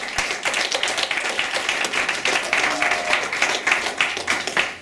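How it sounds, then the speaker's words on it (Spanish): A church congregation claps together, a dense, lively burst of applause with sharp hand slaps keeping up steadily throughout, close and loud, with no voices on top. "De verdad que vamos a darle un aplauso nuevamente al Señor."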